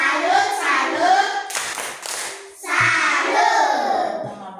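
Children do a rhythmic classroom clapping routine, chanting in unison with a few sharp claps between the sung phrases, voices close and lively.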